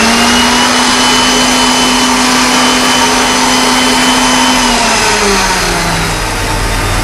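A blender puréeing leek soup, a loud, steady motor whine that holds a constant pitch before shifting lower near the end, running alone without voices.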